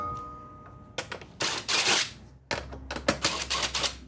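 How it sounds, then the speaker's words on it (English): Bolts being loosened from the fuel pump on a Briggs and Stratton 24HP V-Twin engine, giving close, sharp metallic clicks and ratcheting taps in two clustered bursts after a quiet start. "Now we'll get the bolts out for the fuel pump."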